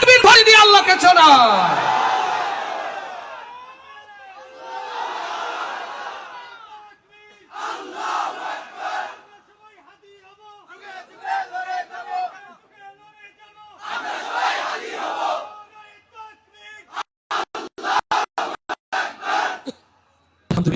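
A large crowd shouts the takbir (Allahu Akbar) in unison at an outdoor religious gathering in Mymensingh Sadar, the loud chanted calls rising in repeated waves with pauses between them.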